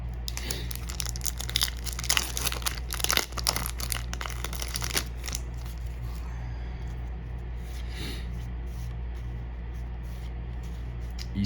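Crinkling and tearing of foil wrappers as Lord of the Rings trading card game booster packs from The Two Towers are opened, a dense close crackle for the first five seconds, then quieter rustling over a steady low hum.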